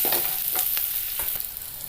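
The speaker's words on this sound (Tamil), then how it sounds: "வெங்காயம் நல்லா பாயில் ஆகட்டும்." Chopped onion fries in a pan for a raw-banana podimas, giving a steady close sizzle broken by a few soft stirring scrapes, with no talking.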